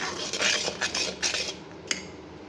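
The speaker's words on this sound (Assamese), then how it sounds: "মই ধুনীয়াকৈ লৰাই দি থাকিম" Wood ash mixture for homemade dish soap stirred in a container, several swishing, scraping strokes close up, then a single light clink, with no voices.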